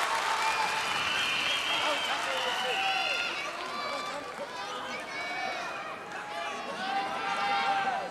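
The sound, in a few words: arena crowd cheering at a wrestling match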